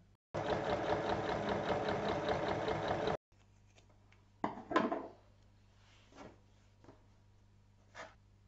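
A sewing machine stitching fabric for a small rounded tote bag runs in one steady rapid burst of about three seconds, then stops, followed by quiet handling clicks and rustles.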